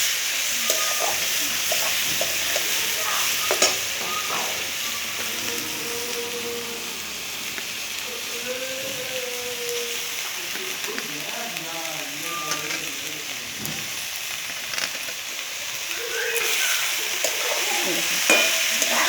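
Banana stem pieces with radish and potato fry in a pan of mixed vegetables, a continuous sizzle broken by scraping, clattering stirs and occasional quiet speech.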